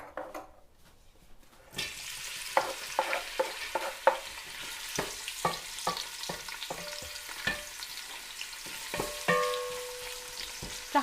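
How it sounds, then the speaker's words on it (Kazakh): Chopped onions dropped into hot oil in a heated cauldron, frying with a steady sizzle and repeated clicks of stirring after a short quiet start, close and without talk. "турап қойған пиязымызды сала береміз."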